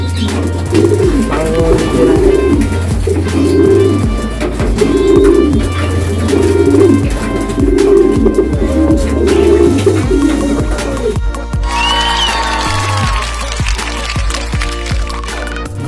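Racing pigeons coo in a repeated, rhythmic pattern close by, several soft throaty calls in a row, followed by brighter bird chirps.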